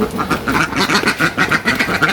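Domestic ducks quack repeatedly in quick, rhythmic bursts while waiting to be fed rice, close and fairly loud, one call running into the next.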